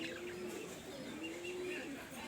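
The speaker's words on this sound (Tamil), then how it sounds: "இந்த உருமுறை தான் ஆண் புறா" A domestic male pigeon gives a low, steady rumbling coo in two drawn-out phrases, heard up close against faint background noise.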